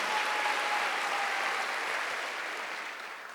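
A church congregation at a Korean Wednesday worship service applauds, with dense, steady clapping that gradually fades toward the end.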